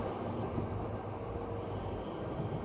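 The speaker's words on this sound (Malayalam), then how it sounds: "ഈ സ്റ്റേഷനിൽ നമ്മുടെ ട്രെയിൻ നിർത്താനുള്ള ചാൻസ് ഇല്ല" A passenger train heading into Tamil Nadu rumbles along the tracks in a continuous, even roar, steady and moderately loud throughout, with no voices.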